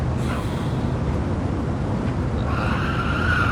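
A Xiaomi SU7 Ultra electric car accelerating hard around the Nürburgring in Gran Turismo 7, a steady loud whine and tyre roar building with a rising high-pitched tone toward the end, no talk.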